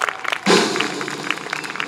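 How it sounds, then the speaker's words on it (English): Audience applause bursts out at an outdoor live concert in a park district venue, a sudden swell of clapping that stays steady and moderately loud to the end. "Give them a round of applause."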